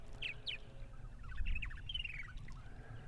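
Purple martins chirp and twitter faintly in spring on eastern Long Island, New York. A few scattered, distant calls sit over a low background rumble.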